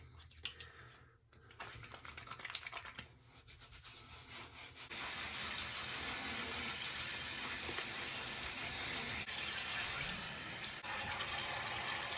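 Tap water runs steadily while a beard is washed with Chesapeake beard wash, a rushing, close stream with rubbing and splashing in the first seconds, then a louder constant flow to the end.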